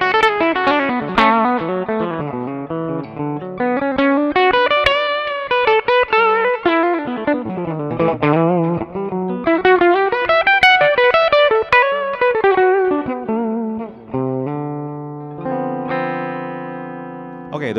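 Ibanez RGIXXV 25th Anniversary electric guitar played through the bridge pickup with a clean tone, loud and close: ringing chords and single-note runs in steady succession, ending on sustained held notes.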